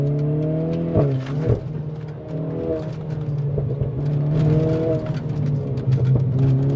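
A Renault Clio 4 RS Trophy with an Akrapovic exhaust, its engine droning steadily from inside the car with pitch rising and dipping under throttle and brief gear-change breaks, no talking.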